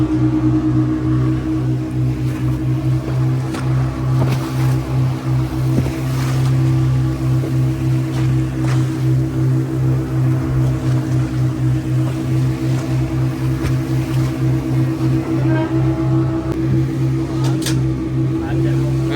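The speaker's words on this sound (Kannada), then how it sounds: "ಬೋಟ್ ಸ್ಟಾರ್ಟ್ ಆಗಿದ್ದಾವೆ, ನೋಡ್ತಾ ಇದ್ದಾವೆ" A boat engine drones steadily throughout on the way from Murudeshwara to Netrani Island, a constant low rumble with a rhythmic pulsing hum, loud and close.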